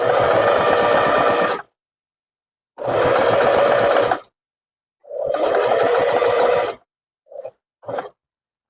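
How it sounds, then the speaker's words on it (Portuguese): A sewing machine stitches a pocket outline onto a tailored vest with a square neckline, running in three loud, even bursts with silent gaps, followed by a few brief clicks of the needle being turned. "Vou alinhar aqui meu calcador e vou começar a costura"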